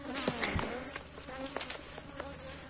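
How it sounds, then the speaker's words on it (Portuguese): Drone bees buzz around a large, populous hive, several close wingbeat drones rising and fading as individual bees pass near, over quiet background. "Isso aqui é o zangão, pra quem não conhece."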